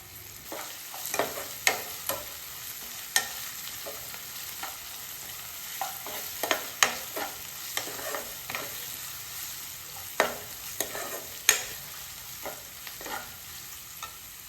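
Onions, curry leaves and ginger garlic paste frying in a pan for bitter gourd gojju, a quiet steady sizzle broken by sharp clicks and scrapes of a spoon stirring, with no talking.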